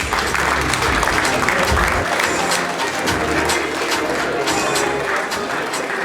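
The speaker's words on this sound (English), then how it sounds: "Please, a proper round of applause for architect Alan Davies." Applause at a 60th anniversary celebration party for Knight Frank, a dense, steady wash of clapping hands from a large crowd that carries on loudly and evenly throughout.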